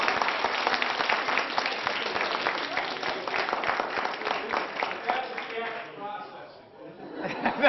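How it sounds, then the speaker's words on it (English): A live audience gives a round of applause during a talk on creating passion for change, a crowd of hands clapping with chatter and chuckles mixed in, thinning out toward the end before swelling again. "Let's give them a big round of applause"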